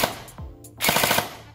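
G&G ARP9 airsoft gun firing a rapid multi-shot burst of about four or five sharp cracks close to the microphone, preceded by a single click.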